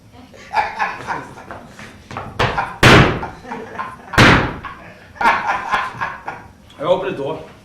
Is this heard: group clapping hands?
no